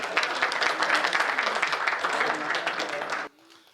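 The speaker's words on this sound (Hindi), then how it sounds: "अब क्या आपके कानों में आकर कहूं कि ताली बजाओ?" Dense, steady applause from a crowd at a Hindi comedy poetry gathering (hasya kavi sammelan), loud and continuous for about three seconds before cutting off abruptly into near quiet.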